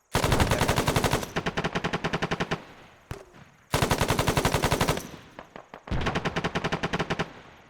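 Machine gun fire from ArmA 3 pounds out in three long, loud automatic bursts of rapid, evenly spaced shots, separated by brief pauses, with no talking.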